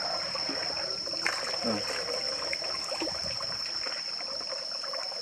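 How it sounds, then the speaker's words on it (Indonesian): Water is poured in to prime a manual, electricity-free well pump, giving a steady trickling splash that runs throughout at moderate level, with faint background noise. "Kita isi dulu airnya."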